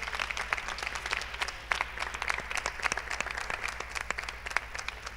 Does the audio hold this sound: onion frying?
no